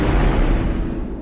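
Bazooka shot exploding in a first-person shooter video game, a single loud, dense boom with a rumbling low-end tail lasting about a second, close and with no talking.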